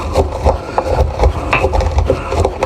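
A pestle works ingredients for smoked salmon, giving close, loud rhythmic grinding and rubbing strokes that repeat steadily with no talk.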